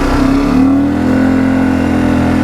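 Can-Am Outlander ATV engine revving hard and loud at close range, a sustained buzzing drone that holds steady after a brief early surge, with no talking.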